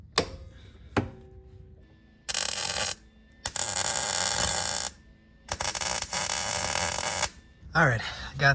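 MIG puddle welds laid on a cover plate in a 1996 Honda Civic EK hatchback, three loud crackling buzzing bursts of a few seconds each separated by quiet gaps, with a click or two.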